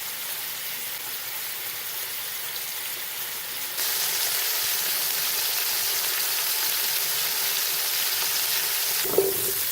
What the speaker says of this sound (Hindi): पायों को आप ब्राउन होने देंगे। जब इनका कलर चेंज हो जाए अच्छी तरह लहसुन में फ्राई करेंगे।